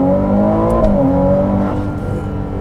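A Ferrari 296 GTB's engine hums steadily through a slow U-turn, the loud, close, continuous drone shifting slightly in pitch as the car turns.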